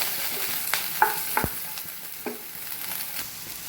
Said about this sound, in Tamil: இஞ்சியும் பூண்டும் நல்லா வதங்கிடுச்சு